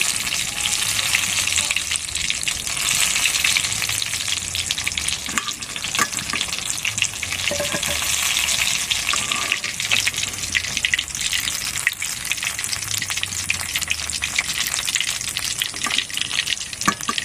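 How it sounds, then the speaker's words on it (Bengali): Slices of teasel gourd (kakrol) frying in hot oil in a pan, a loud continuous sizzle with occasional stirring and scraping throughout. "বাকিগুলো একইভাবে ভেজে নেব"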